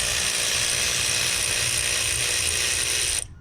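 A ratchet wrench works a 13 mm alternator belt tensioner bolt, giving a loud, continuous close-up clicking whir that cuts off abruptly at the end.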